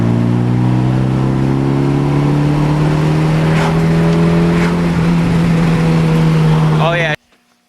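A car engine revving hard on what may be its last pull, a loud, close, sustained rising roar that climbs in pitch for about seven seconds before cutting off abruptly.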